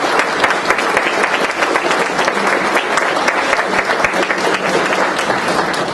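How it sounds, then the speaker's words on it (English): A crowd at an American Legion campaign speech gives a sustained round of applause, dense clapping filling the room steadily for several seconds without a break. "give my wife a round of applause"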